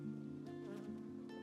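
Honeybees buzz steadily around a beehive being installed in an apiary, a close, continuous droning hum with no voices.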